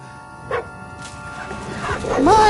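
A dog in the medieval video game Kingdom Come Deliverance 2 gives a few short yips and barks, moderately close, over steady game background with a voice talking nearby.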